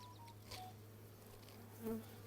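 A soft, steady hum of honey bees drones around the hive frames of a ten-frame hive body, faint and low, with an occasional louder buzz as one passes nearby.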